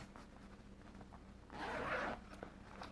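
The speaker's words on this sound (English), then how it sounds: "It would help if I zippered it the right way." A single short zip of a zipper on a cross-stitch project bag, heard close and fairly quiet against a soft background hum, lasting about half a second.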